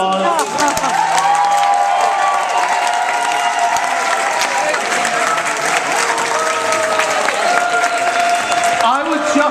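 A drag show audience claps loudly and continuously, with scattered cheers and voices mixed in throughout.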